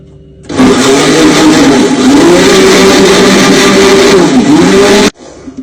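An electric mixer beating sugar and oil, a loud, steady motor whine lasting about four and a half seconds, its pitch wavering slightly as the blades work through the mixture, then abruptly switching off.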